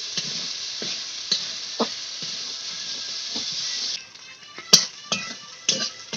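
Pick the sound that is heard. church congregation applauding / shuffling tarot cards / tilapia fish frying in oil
tilapia fish frying in oil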